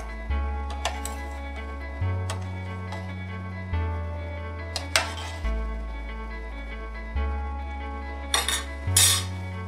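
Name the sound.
stirring macaroni in a pot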